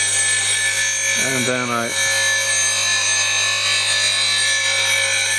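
A wood-turning lathe spins steadily with a constant hum while a gouge rubs and cuts along the outside of a bowl, the cutting noise continuing throughout; someone speaks briefly over it.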